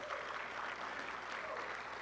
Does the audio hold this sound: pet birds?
no